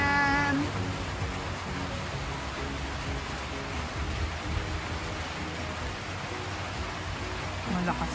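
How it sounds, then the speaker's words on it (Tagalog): Heavy rain pours as a dense, steady hiss with no breaks, loud and close for the whole stretch. A voice is briefly heard near the start. "Malakas na ulan ito."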